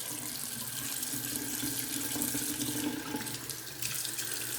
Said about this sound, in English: I'm running my fingers under the water.